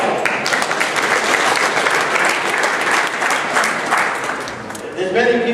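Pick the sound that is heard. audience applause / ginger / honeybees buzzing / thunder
audience applause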